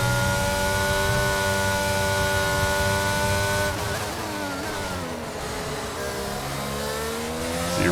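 Mercedes Formula 1 car engine screaming at high revs around Silverstone in F1 22, a loud sustained whine that drops in pitch as it lifts and shifts, then climbs again on the throttle.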